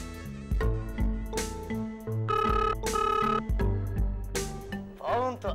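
A telephone rings with a loud, musical ringtone melody playing in repeated phrases.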